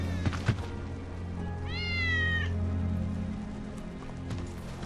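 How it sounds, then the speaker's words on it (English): In Final Fantasy VII Remake, a single drawn-out cat meow rises clearly over low steady game ambience, with a couple of faint thumps beforehand. "That's Wedge's cat"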